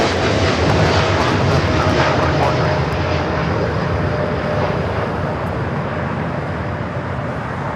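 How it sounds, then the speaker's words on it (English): A heavy Airbus A350 jet on short final into LAX gives a loud, steady roar with a broad rumble that holds for the whole stretch and eases only slightly toward the end. "Heavy Airbus 350 short final"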